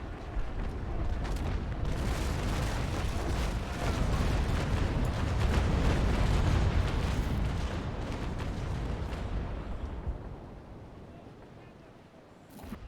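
Continuous rumbling booms of sailing-ship cannon fire in the video game Naval Action, with explosive blasts, loud and dense through most of the clip before thinning out near the end.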